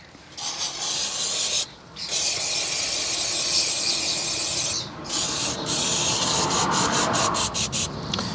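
Someone scrubs the brake caliper of a 2005 Volvo V70 2.5T in steady, close, loud rubbing strokes with short pauses, ending in a quick run of separate scrapes.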